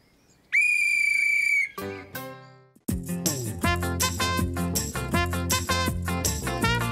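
A shrill whistle blast sounds loudly in a children's cartoon, followed by a falling musical flourish and then bouncy, lively cartoon music.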